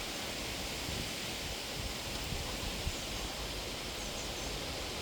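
Wind gusting across an open potato field at harvest time, a steady broadband rush with faint rustling and no voices.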